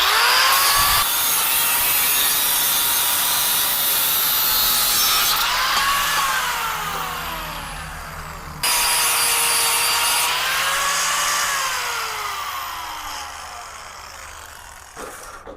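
Steady back-and-forth sawing through exhaust pipe on a 454 Nova, a loud continuous rasping cut with brief pauses as the stroke shifts, heard alone.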